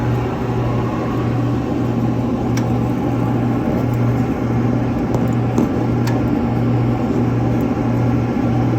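The gas burner on a Diedrich IR-12 coffee roaster runs with a steady, loud roaring hum and a constant low drone that holds unchanged throughout.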